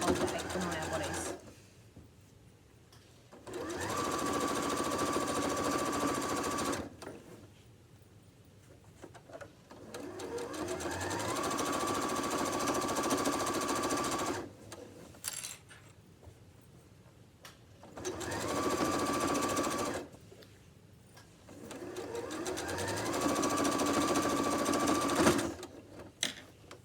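A sewing machine reinforces the straps on an apron in bursts of fast, even stitching. Each run lasts a few seconds and is followed by a quiet pause, and someone talks quietly between the runs.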